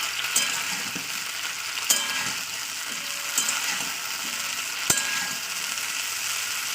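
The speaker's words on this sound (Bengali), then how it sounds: "এইভাবে তেলের উপরে বিজলিটা ভাজতে হবে" Lentil bitli frying in oil, a steady dense close sizzle with a few sharp utensil taps against the pan at intervals, no voices.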